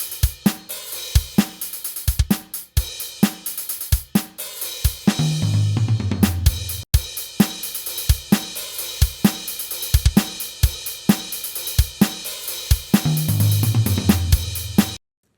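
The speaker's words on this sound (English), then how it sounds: "So now the drum loop sounds like this." Programmed drum loop built on a steady hi-hat rhythm with punchy kicks and snares, plus tom fills ringing out near 5–6 s and again near 14 s, with no crash cymbal; loud and close, no voices.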